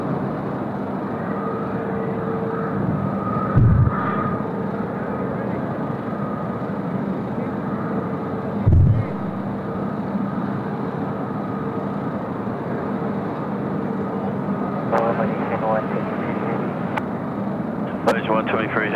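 An airliner lands at Sydney Airport, pushed toward the listener by the wind: a loud, steady roar of jet noise fills the whole stretch with little change, with a couple of brief thumps and faint radio-like voices near the end.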